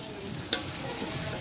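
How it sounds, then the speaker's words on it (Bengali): Spice paste frying in a pan, over-fried to the point of turning bitter, gives a steady soft sizzle with one brief sharp crackle partway through and no voices. "মশলাটা বেশি ভাজা হয়ে গেছে তো, তেতো লাগতে পারে"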